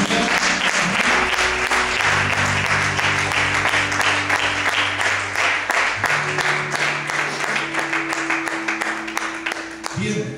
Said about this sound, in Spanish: Dame un aplauso fuerte al Señor.